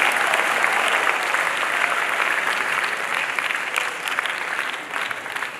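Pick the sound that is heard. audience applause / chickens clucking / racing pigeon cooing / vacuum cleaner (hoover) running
audience applause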